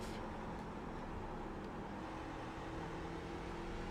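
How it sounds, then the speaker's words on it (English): A racing truck engine at full throttle in fourth gear on hot tires in a simulated stock-truck race at New Hampshire, heard as a loud, steady, continuous drone that holds for the whole stretch without a break. "See how I can like full throttle on hot tires in fourth and have no issue."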